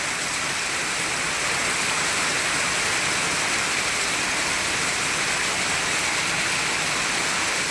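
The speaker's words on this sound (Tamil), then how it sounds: "தருமபுரியில் இடி மின்னலுடன் மழை வெளுத்து வாங்கியது." Heavy rain pours down during a storm in Dharmapuri, a dense, steady roar of falling water that stays loud and unbroken throughout, with no distinct thunderclap standing out.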